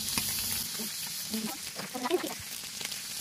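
Ginger dropped into hot oil: a faint, steady frying hiss with soft stirring scrapes and a few small pops, close but quiet, while a voice speaks briefly in the background.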